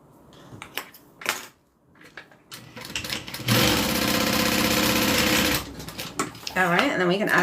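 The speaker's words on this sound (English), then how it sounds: "And then just sew it down." A sewing machine stitches down a folded fabric edge in one steady whirring run of about three seconds, with short clicks and handling noises before and after it.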